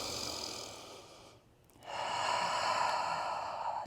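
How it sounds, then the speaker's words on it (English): A pregnant woman takes slow, deep breaths during a gentle prenatal yoga flow. A long airy exhale fades into a short quiet pause, then a full, steady inhale swells and holds, close and clearly audible with no talking. "2 more deep rounds of breath"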